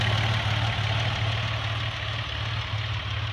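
Engine of a 2000 Ford Contour SVT idling after a tune-up: a steady low rumble with an even, regular pulse throughout, loud and close, with no talking.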